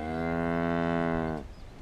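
A suckler cow on a farm gives a single long, close, loud moo lasting over a second, then it cuts off into quiet field ambience.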